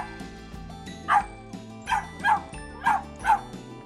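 Black cavapoo barking indoors in five short, sharp yips, spaced about half a second apart, close to the microphone with a quiet background.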